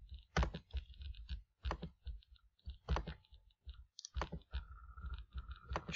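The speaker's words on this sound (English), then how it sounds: "And I keep clicking." A computer mouse clicks repeatedly and unevenly at a desk, a series of faint, sharp taps spread across several seconds with short pauses between groups, alone without talk.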